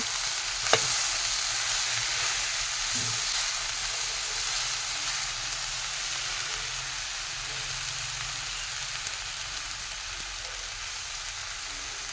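Continuous loud sizzle of tempering spices crackling in hot oil for a dried prawn dish, close and steady, with a single sharp tap near the start.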